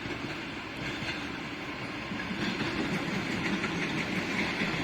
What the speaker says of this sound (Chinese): 现在晚上快7点钟了，大家看各种列车快进站时的速度。